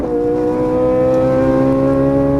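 A Ferrari 458 Italia engine pulls hard after an upshift, a loud, sustained tone that climbs steadily in pitch, heard from close up with no talk.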